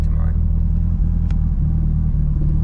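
A built Mitsubishi EVO engine idling while warming up, a loud steady low rumble with an even throb, close by, while someone talks over it.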